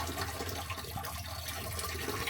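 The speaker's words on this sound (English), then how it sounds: "It's just running water, okay? There's a tap in the background." A water tap runs steadily in the background, a soft continuous hiss and trickle with no talking.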